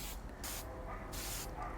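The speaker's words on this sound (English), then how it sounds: "once I spray one and I go to the next one" Short bursts from a spray can apply gold paint to car trim pieces, three or four close hissing sprays separated by brief pauses.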